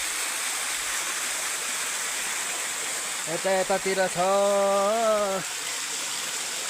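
A stream flows steadily near its spring on a hillside, giving a constant broad rushing hiss throughout; someone speaks briefly over it midway.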